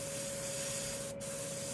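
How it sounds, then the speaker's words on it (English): An airbrush sprays paint unthinned at fairly high pressure in a steady, close hiss that holds throughout, broken only by a brief dip where the trigger eases. "You can see it spraying here."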